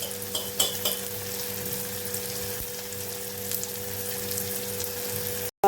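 Tomato and red masala fry in hot oil for a Konkani-style cashew curry, producing a steady, close hiss and crackle that runs unbroken for several seconds before cutting out abruptly.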